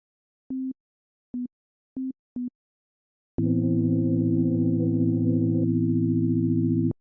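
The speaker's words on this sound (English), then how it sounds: "that sounds really weird with just a sine wave" Plain sine-wave synth tones: four short identical beeps at one pitch, then a long sustained chord of pure tones held for several seconds before cutting off, clean and isolated.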